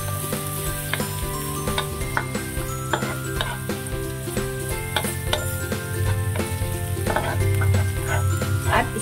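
Chicken frying in a pan until light golden brown, with loud continuous sizzling and regular scraping and tapping from a stirring utensil throughout.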